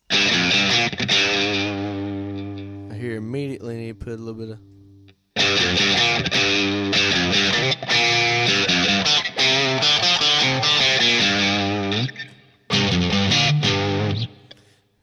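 Electric guitar through a Line 6 POD HD500 modeled Fender Bassman (bright) amp with a boost compressor, slightly gritty tone, plays chords and bends, loud and close, with a brief spoken remark in a gap.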